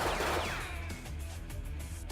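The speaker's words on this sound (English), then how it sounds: "The gunshots echo even louder" Gunfire from a Fate/stay night visual novel scene echoes through a school building, a dense burst of loud reverberant shots at the start giving way to scattered sharper cracks and a lingering rumble.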